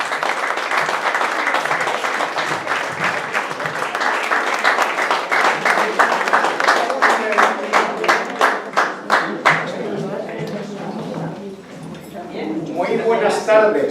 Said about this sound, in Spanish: Un fuerte aplauso para José Luis Pardo.